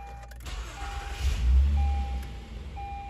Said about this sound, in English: take our remote and just put it near the stop start button, and you'll hear that beep